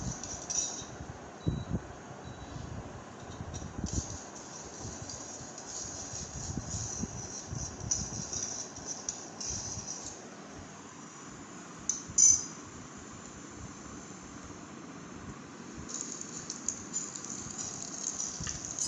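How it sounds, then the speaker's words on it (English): Mustard seeds and seasonings fry in a pan with a steady, low sizzling crackle and a few sharp pops, plus a brief clink of a utensil partway through. "Let it fry nicely till we get the nice aroma."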